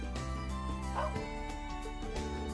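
A dog minding a shop in the RPG Trails of Cold Steel 3 gives short yips and barks amid background game music, a few quick calls close by.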